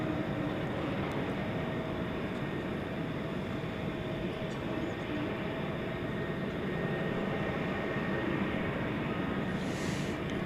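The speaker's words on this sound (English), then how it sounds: "There goes the A300 off to Chicago Rockford International Airport" An Airbus A300 departing DFW airport at night, a continuous broad jet roar with a low rumble, steady and fairly distant, with no talk over it.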